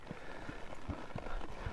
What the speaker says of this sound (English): I get the horse walking backwards